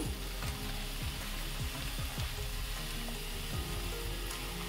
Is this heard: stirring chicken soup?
yes